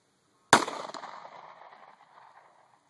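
A single sharp shot from a Glock 27 pistol cracks close by outdoors, its report fading in a long echoing tail, with no talk.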